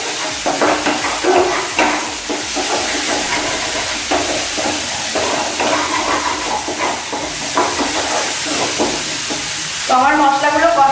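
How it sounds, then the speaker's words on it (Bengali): Spices being stir-fried in a pan, a steady sizzle and hiss with scraping stir strokes throughout, loud and close; a short voice-like tonal passage comes near the end. "আমার মশলাগুলো কষানো হয়ে গেছে ভালো করে"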